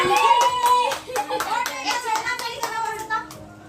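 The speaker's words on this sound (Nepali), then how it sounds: "ताली ताली" At a birthday gathering, hands clap in a quick, fairly even run of sharp claps, with children's voices heard alongside.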